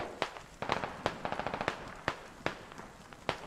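Gunfire in the SquadOps video game comes from an engineer shooting down a hill, with sharp cracks in irregular bursts, some single and some rapid clusters, at moderate distance with no talk.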